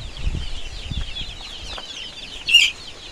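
Chickens cluck softly in a henhouse on a farm, a steady low murmur of hen calls with faint wing flaps and one brief louder squawk near the end, heard close with no talking.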